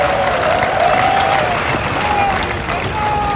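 A cricket crowd at a 1999 World Cup match between South Africa and Kenya cheers and applauds a boundary in a dense, sustained roar, with a commentator's voice running over the noise.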